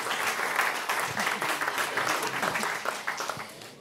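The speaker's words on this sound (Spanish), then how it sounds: "por favor un aplauso para Ana" Conference audience clapping for a speaker at an agri-food sector event, a steady, fairly close round of applause with individual claps audible, lasting the whole stretch.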